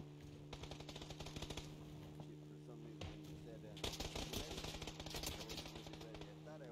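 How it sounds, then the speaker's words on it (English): Video game gunfire, bursts of rapid automatic shots in quick clusters with brief pauses between, fairly faint against a steady low electronic hum, with rattling volleys that thicken toward the end. "There's a ton of shooting up here"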